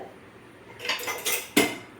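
A metal pressure cooker lid clanks and scrapes into place over rice and water, a few short close metallic knocks in a quiet kitchen.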